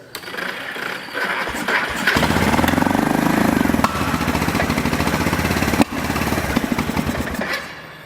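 ATV engine running on choke, a steady mid-pitched motor drone that starts up after a couple of seconds and carries on with a slight pulsing, close and moderately loud, with one sharp knock near the six-second mark.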